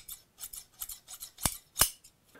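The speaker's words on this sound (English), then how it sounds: "I want to hear the zing of the scissors all the way along" An old pair of scissors opened and closed repeatedly, a run of crisp metallic snips and zings with two louder sharp closes near the end, close and alone.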